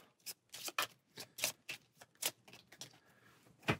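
Quiet riffle-and-tap bursts of Aeon's End game cards being shuffled by hand on a table, a series of short, irregular clicks and rustles, close and soft with no talking.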